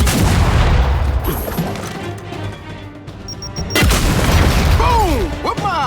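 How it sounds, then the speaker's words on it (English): Heavy booms and blasts from thrown frag grenades in the Gears 5 bootcamp training level, loud low rumbling explosions, with a sudden second burst of debris and crackle near the end. "keep your head down and blind toss the grenade"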